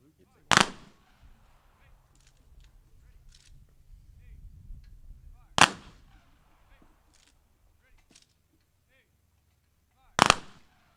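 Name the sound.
gun salute at cemetery ceremony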